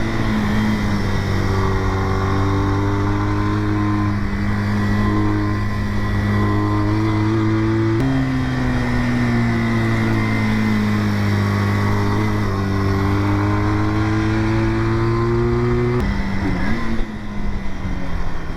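Engine drone fills the whole stretch, steady and loud with slow pitch shifts as it climbs and eases, heard from on or beside a road with other vehicles around in foggy conditions.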